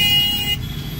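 Cars move along a busy road beside an overbridge near Patliputra station, making a loud, steady roar that drops a little midway through. There are faint hints of a horn in it.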